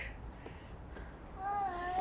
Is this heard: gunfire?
no